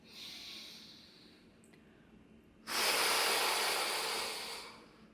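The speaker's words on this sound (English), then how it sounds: "on the exhale, you're going to just kind of puff up your lips. Let the sound be heard on that exhale." A long, airy exhale pushed out through puffed-up lips during a breathwork exercise, a soft breath first, then a louder rushing release lasting a couple of seconds, close to the mic with no talking.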